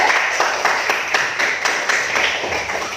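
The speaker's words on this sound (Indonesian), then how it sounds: "Aplaus untuk kelompok 3." Short round of applause for a student group after their presentation in an online teacher-training class, a handful of quick, fairly close hand claps.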